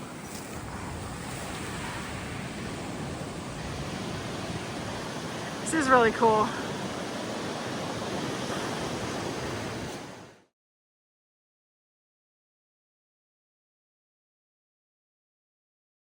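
Ocean surf surging along the rocky Pacific coastline of the West Coast Trail, a continuous broad wash of water with wind noise, a person briefly speaking midway before the sound cuts off abruptly.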